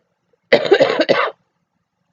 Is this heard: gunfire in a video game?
no